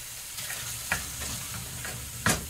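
Meat and onion mixture for Yemeni fahsa sizzles steadily in a pan, with a few sharp scraping stirs standing out above the continuous frying hiss; no one speaks.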